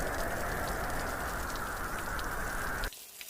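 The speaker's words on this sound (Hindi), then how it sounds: "ठंडी हवाएं तेजी से चलने लगती है और कुछ ही देर में घनघोर बारिश शुरू हो जाती है" Heavy rain pours down steadily in a village cartoon story as cold winds pick up, a dense continuous hiss that holds loud and even for almost three seconds, then cuts off abruptly.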